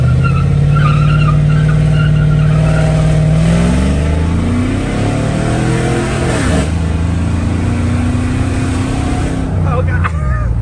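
A Chrysler 300 with a turbocharged LS engine swap holds a long, loud burnout, the engine droning and climbing in pitch while tires spin and squeal, with a person talking over it.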